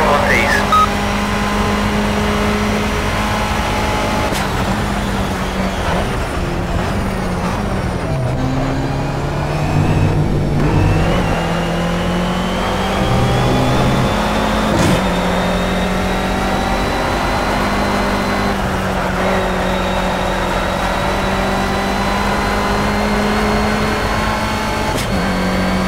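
A Renault Clio Cup race car in the Project Cars racing game, on a lap of Circuit de Catalunya, drones loudly throughout as the engine rises and falls through gear shifts, braking and acceleration.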